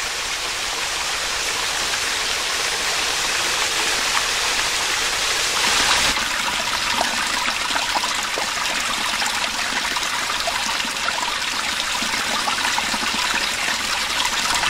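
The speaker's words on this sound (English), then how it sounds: "Beautiful little falls area down there." A small waterfall on a stream at Worlds End State Park, Pennsylvania, rushing steadily and loudly close by, a dense continuous splash that swells slightly partway through, with no voices.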